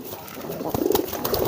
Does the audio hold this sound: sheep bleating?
no